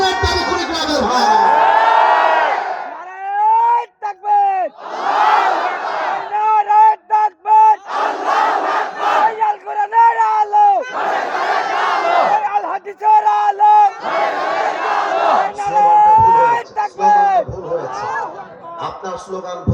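Large crowd chanting slogans at an Islamic religious gathering (waz mahfil), loud and close, with a leader's voice calling out and many voices answering in rhythmic, repeated shouts and cheers.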